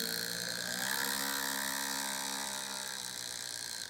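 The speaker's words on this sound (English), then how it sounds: "these are drywall screws, and they drive pretty decently" A three-year-old Milwaukee M12 drill on setting 3 drives drywall screws into soft material, giving a steady high motor whine that runs for about four seconds and then cuts off. The whine is fairly quiet and no one talks.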